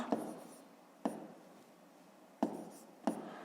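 Numbers written by hand with a pen on paper come through as four short scratchy strokes, spaced apart, close and quiet in an otherwise silent room.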